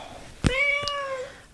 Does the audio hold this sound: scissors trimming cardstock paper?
no